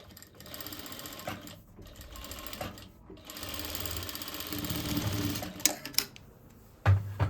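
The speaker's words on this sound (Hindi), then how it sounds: "यह सिलाई हम बिल्कुल साथ साथ लगानी है बुकरम के" A sewing machine stitches a blouse sleeve along buckram in several short, close bursts of rapid whirring, broken by pauses, clicks and fabric handling.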